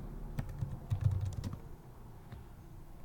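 Quick bursts of keystrokes clatter on a computer keyboard, close and crisp, in short irregular runs that fade out toward the end.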